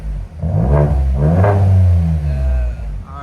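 A Ford Edge ST with a 2.7L EcoBoost engine and LCGP resonators revs loudly up close, its exhaust rising in two quick blips and then holding a deep sustained rev before settling back.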